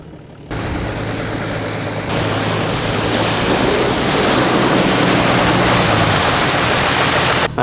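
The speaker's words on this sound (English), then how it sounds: "a really strong gust of wind, and then it just never stopped" Strong wind roars steadily and loudly across the microphone in a New Mexico landscape, starting abruptly after a brief quieter moment and then blowing on without letup, broadband and rushing like surf.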